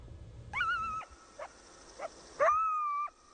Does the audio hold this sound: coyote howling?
yes